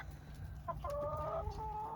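Backyard hens in a garden cluck and give a rising drawn-out call, close by over a low steady hum, with no talking.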